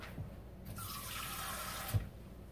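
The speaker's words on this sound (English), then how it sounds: "And so I add equal parts water." Water pours steadily into cold brew coffee concentrate for about a second, a quiet close splashing stream that starts and stops abruptly.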